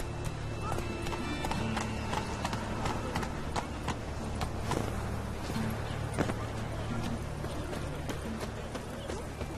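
Roach, the horse in The Witcher 3: Wild Hunt, gallops with steady clip-clop hoofbeats over a constant game soundscape, along with a brief whinny and a voice speaking over it.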